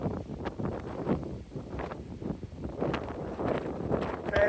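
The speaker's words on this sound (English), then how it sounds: "got some serious wind up here" Strong gusts of wind blow steadily through trees near a coastal beach, a continuous rushing and buffeting roar with microphone wind noise and no speech.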